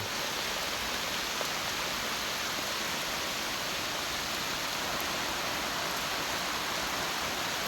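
Rain falls steadily at night around an abandoned field hut in the forest, making a dense, even hiss that fills the whole stretch without a break and has no voices over it.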